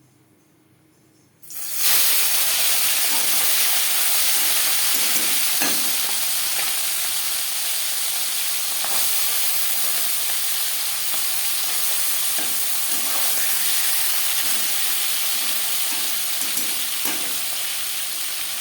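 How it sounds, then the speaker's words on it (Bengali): Marinated tangra fish dropped into hot mustard oil: after a brief quiet moment, a sudden loud, bright sizzle bursts up and holds as a steady hiss, with faint crackles and pops scattered through. "এবার দিয়ে দেব ম্যারিনেট করে রাখা ট্যাংরা মাছ।"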